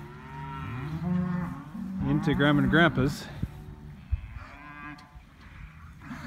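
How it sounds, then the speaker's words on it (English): Worked-up cattle moo loudly and repeatedly at night, stirred by a moved trailer, with long overlapping calls close by while a person briefly talks. "So the cattle are all worked up because we moved the trailer"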